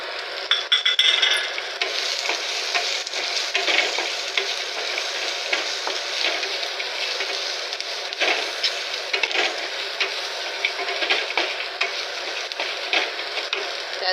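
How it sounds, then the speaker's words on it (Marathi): Onion fries with red Kashmiri chili and whole spices, including cinnamon, green cardamom, cloves and cumin, in a pan for butter chicken. A steady close sizzle runs throughout, with occasional scraping stirs and no talk. "इकडे मी कांदा फ्राय करायला घेतले."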